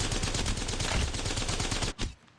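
Rapid automatic gunfire from the mobile video game Apex Legends Mobile rattles loud and dense for about two seconds, then breaks off, followed by a short final burst and quiet.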